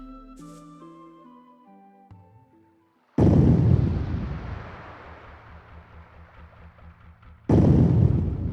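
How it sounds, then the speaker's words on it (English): Huge booming impacts from something very big banging against village walls at night in the Legend of Legaia video game: two loud, sudden crashes with long rumbling decay, following quieter game music. "During the night, something very big bangs against the walls, and everyone goes out to check."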